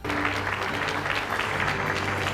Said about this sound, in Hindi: जहां तालियों से उनका जोरदार स्वागत हुआ